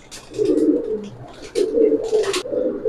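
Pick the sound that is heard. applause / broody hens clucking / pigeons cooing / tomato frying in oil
pigeons cooing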